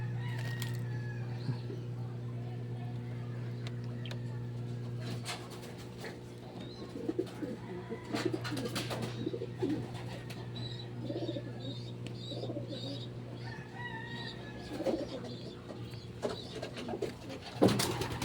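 Pigeons, both male and female Chops, cooing in a loft: soft repeated low coos over a steady background hum, with a few sharper fowl calls near the end.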